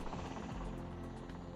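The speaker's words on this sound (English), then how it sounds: "the helicopter rises over the most northerly trees in the world" A helicopter flying back over the world's most northerly trees toward Khatanga gives off a continuous loud rotor thump and engine drone, steady and close with no talk.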